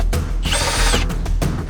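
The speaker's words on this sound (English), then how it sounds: "you're gonna drill straight into the body for this" A power drill bores into the body of a Miata for hydraulic pump mounts, whining loudly and close in short bursts that rise to a sustained high grind and then cut off.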